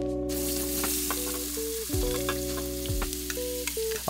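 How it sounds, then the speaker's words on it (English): Chopped vegetables and onions sizzle steadily in a pot after garlic has been browned, making a constant loud frying hiss broken by the scrape and clunk of a spoon stirring a few times, with no one talking. "I'll throw these into the pot and give them a stir and cook them up for about 5 or 6 minutes"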